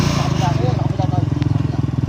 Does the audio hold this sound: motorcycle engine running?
yes